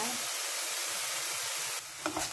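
Salt and pepper being stirred into food in a cooking pan, a steady soft scraping and sizzling texture that continues throughout, with a few brief louder clatters near the end.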